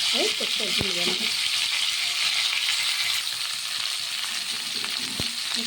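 Ridge gourd, potato and pumpkin sautéed in a pan with five-spice and green chilli, giving a steady, close sizzle with a few sharp utensil clinks against the pan.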